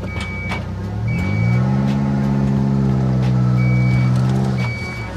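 Lamborghini bought at auction, its engine idling evenly, a loud steady near hum with slight pitch swells and a few short high beeps on top, no talk.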